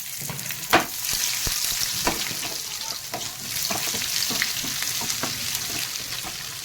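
Garlic, mustard seeds and panch phoron crackle and sizzle in hot oil in a pan, a loud, steady frying hiss with sharp pops and occasional stirring clicks.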